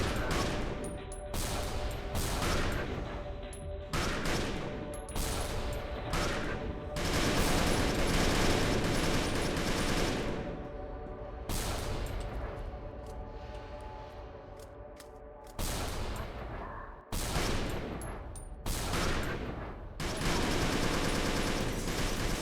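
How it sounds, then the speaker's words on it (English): Sustained bursts of rapid gunfire in the video game Labyrinth of the Demon King crackle loudly over a constant backdrop, with brief pauses between volleys; no talking. "I have no idea where this gunfire is coming from."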